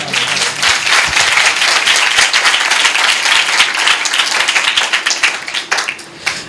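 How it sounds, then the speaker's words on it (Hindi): Loud, dense applause from a church congregation during Sunday worship, cheering for Jesus, with steady clapping that fills the space for several seconds. "यीशु के लिए जोरदार तालियां"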